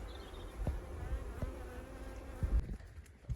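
Bees buzz steadily around a beehive outdoors, a close, continuous insect drone with a few soft knocks and bumps against it.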